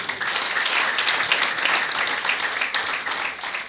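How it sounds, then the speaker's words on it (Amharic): A church congregation applauds together, dense continuous clapping from many hands that stays even throughout with no talk. "ለእግዚአብሔር ክብር አጨብጭቡ።"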